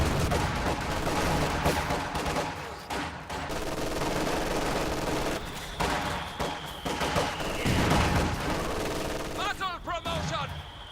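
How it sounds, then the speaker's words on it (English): Mortar rounds and gunfire crash repeatedly through a World War II style video game battle between Axis and Allied infantry, with dense explosions and crackling shots filling the mix while a voice talks over it. "Mortar landing in this general area looks like it will force this infantry formation to"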